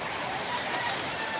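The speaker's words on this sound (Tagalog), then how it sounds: "umuulan" Steady rain hissing down outdoors, a dense continuous wash of drops with no clear gaps, fairly close and moderately loud throughout.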